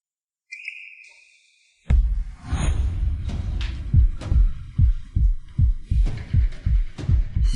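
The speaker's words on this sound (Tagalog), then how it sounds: "Bumibilis ang tibok ng puso ko" A heartbeat sound effect starts after a brief whistling tone and thumps in a steady double beat that grows faster and louder, with no talk.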